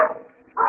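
A dog barks outside, two short, sharp barks separated by a brief pause, fairly close and loud, with no talking.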